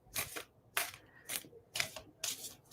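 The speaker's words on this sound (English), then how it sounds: "A quick shuffle. Cards are trying to pop out." Tarot cards shuffled in quick bursts, five short crisp riffling rustles spaced about half a second apart, close and fairly quiet with no voice over them.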